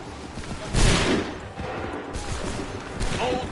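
Musket volley fire in Assassin's Creed 3: a burst of overlapping gunshots from a line of soldiers, loudest near the start and followed by scattered, continuing shots and battle noise.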